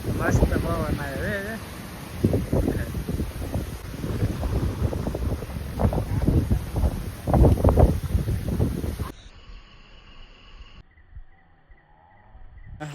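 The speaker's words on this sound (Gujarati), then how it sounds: "ભડાકા થાય હા મસ્ત પવન આવે" Strong gusty wind roars before a thunderstorm in a village in Botad, buffeting the microphone with loud, continuous rushing noise that drops away abruptly near the end.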